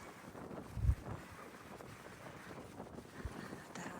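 Wind buffets the microphone by the harbour at Staithes, North Yorkshire, in a low, rough rumble that swells and fades, with one heavier gust early on and no voices.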